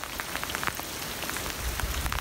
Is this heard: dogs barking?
no